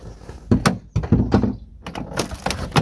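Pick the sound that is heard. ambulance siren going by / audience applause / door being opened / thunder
door being opened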